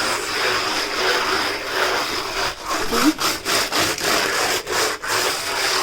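Scrubbing shower room surfaces by hand in circular motions, a continuous close rubbing and scraping with rhythmic strokes that speed into quick pulses toward the end, no talking.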